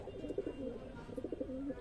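Loft pigeons, including Madrazi/Giribaz flying breeds, cooing in a steady run of low, soft throaty calls close by, repeating without pause over a faint background hiss.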